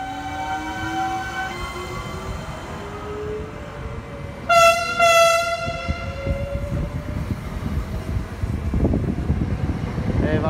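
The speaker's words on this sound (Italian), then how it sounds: "adesso partirà anche questo treno regionale per Bari Centrale" A POP regional train departs Trani station for Bari, sounding a long loud horn with rising electric motor whine as it pulls away and the rumble of wheels grows, heard from the platform.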